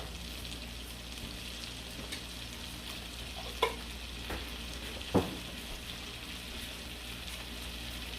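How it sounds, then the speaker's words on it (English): Onions and minced garlic frying in a pan for a seafood boil butter sauce, a soft, continuous sizzle heard up close with a couple of sharp utensil clicks against the pan. "let that just cook until my onions start to look a little clear"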